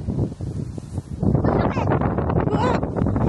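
Strong wind buffets the microphone outdoors in a steady roaring rush that swells louder midway, with voices speaking over it.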